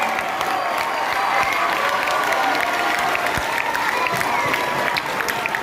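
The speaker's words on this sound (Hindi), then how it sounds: "पूरा सदन कांग्रेस नंबर 4 तालियां बजाकर शुभकामनाएं दें आदरणीय हरिओम पवार जी को।" A large seated audience at a Hindi poetry gathering claps for a renowned poet of heroic verse, a dense, sustained burst of applause that carries steadily throughout, with scattered cheers and no talk over it.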